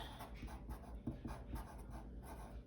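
Hand-writing the word "substitute" on a surface during an algebra lesson, a steady run of soft scratchy pen strokes close up with no talking.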